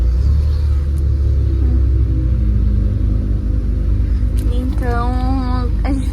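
Volkswagen Kombi engine revving against a locked brake, a loud, steady low rumble throughout, with voices over it near the end.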